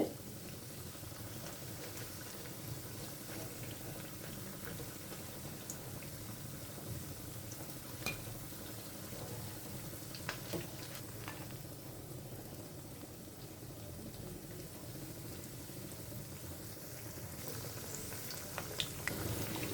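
Faint, continuous sizzling and bubbling of food frying in hot oil, steady throughout with occasional small pops, no talking.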